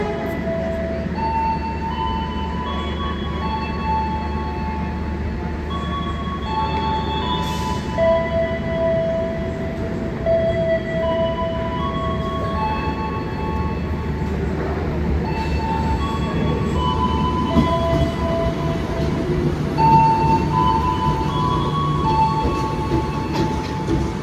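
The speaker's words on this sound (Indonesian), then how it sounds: "Penumpangnya lumayan ramai ya yang naik KRL ke arah Solo pagi ini." A KRL commuter train at Lempuyangan station on a morning run toward Solo gives a steady, close rail rumble with drawn-out metallic squeals and tones coming and going. No one speaks.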